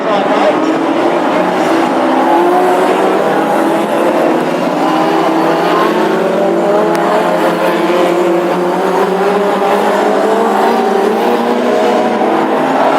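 Classic hot rod race car engines roar continuously at high revs in a race heat at Birmingham, loud and steady throughout, with layered engine tones from several cars.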